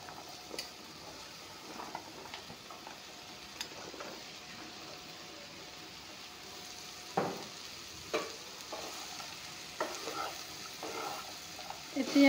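Chopped okra fries in a pan with a low, constant sizzle, broken by intermittent scraping stirs of the spoon against the metal, fairly faint and close.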